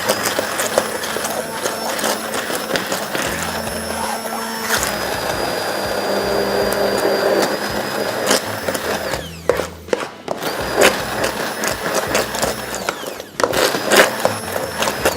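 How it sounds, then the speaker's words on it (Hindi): A handheld hand blender whirs steadily, buzzing as it purées a chicken sauce in a kitchen, close and loud, its pitch shifting as it works and cutting out briefly near the end before starting again. "ये ले लिया, हैंड ब्लेंडर ले लिया"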